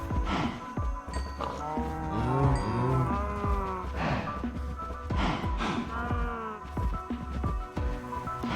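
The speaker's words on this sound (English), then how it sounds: "Time to breed some cattle." Cattle on a farm in a video game moo repeatedly, several drawn-out overlapping lows close by, mixed with clatter and movement noise throughout.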